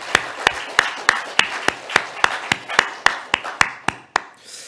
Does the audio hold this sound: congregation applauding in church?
yes